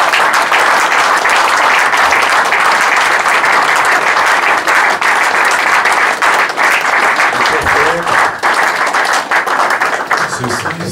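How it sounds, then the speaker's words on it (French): A church congregation at a funeral service breaks into loud, sustained applause, a thick, continuous roar of many hands clapping that holds for the whole stretch and thins only a little near the end, with a voice faintly underneath. "Au nom de Jésus, je vous demande qu'on acclame."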